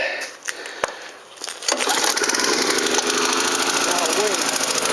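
A snow blower engine, with drive disengaged, fuel on and choke set, catches after a few faint clicks and pulls, then runs at a loud, steady roar up close.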